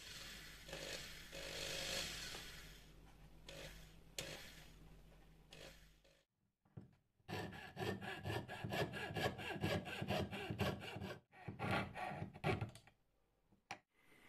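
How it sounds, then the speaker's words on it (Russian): A jeweler's fretsaw cuts out the inside of a metal piece in rapid, rhythmic rasping strokes. The sawing is close and fairly quiet, pauses briefly partway, then resumes in steady bursts with no talk. "лобзиком выпилил все внутренности"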